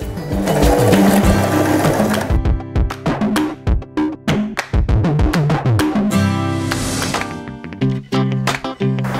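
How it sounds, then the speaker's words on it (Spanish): A Janome 3016 sewing machine stitches a straight seam while a zipper is applied, making a loud, close motor whir with rapid needle clatter, broken into short runs and pauses with quick mechanical taps. "Baja el prensatelas y continúa cosiendo."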